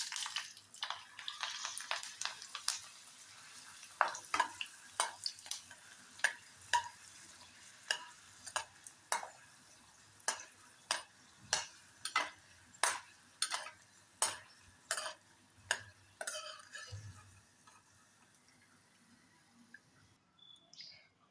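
Dried buttermilk chillies fry in a pan of oil, crackling in a quiet, even series of sharp pops and spits, roughly one every second, alone and fairly soft, with faint birdsong in the background.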